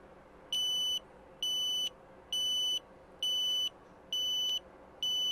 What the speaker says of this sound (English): When a train is detected by TDMs, workers will receive train alerts on their wearables.